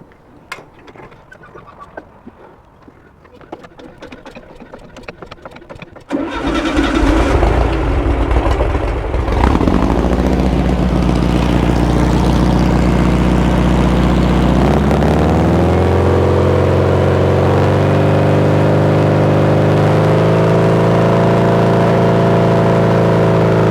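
An old VW-powered sand rail's air-cooled engine starts after quiet handling noises, then runs loud and close, revving up and settling into a steady, rising drone.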